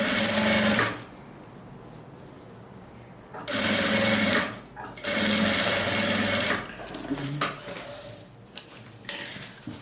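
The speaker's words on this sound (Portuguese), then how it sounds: "costura até chegar aqui no final, uma costura reta com um pezinho de máquina" A sewing machine runs a straight seam with a presser foot on a fabric makeup bag, several loud sustained motor runs separated by pauses and light handling clicks.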